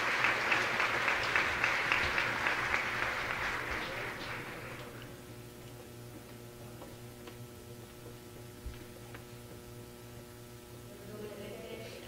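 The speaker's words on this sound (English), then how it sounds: "Big applause for her." Audience applause for a speaker at an education congress, a loud sustained burst of clapping for about five seconds that fades into quiet room hum with occasional faint ticks.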